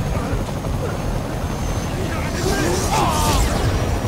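Helicopter in the Spider-Man PlayStation 4 video game, producing a loud continuous rotor rumble and whir with game effects layered over it and no talk.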